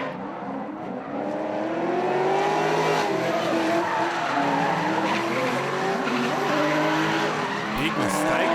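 A drift car slides through a drifting run at a motorsport event, its tires squealing continuously over a loud, rising and falling engine roar that stays close and steady for the whole stretch.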